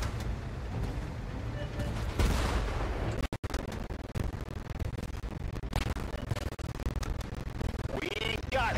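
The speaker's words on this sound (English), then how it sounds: "We're under fire." Dense gunfire and booming artillery in a World War tank battle video game, continuous and loud with overlapping blasts and rumbling explosions, and a brief cut partway through. Voices talk over the combat.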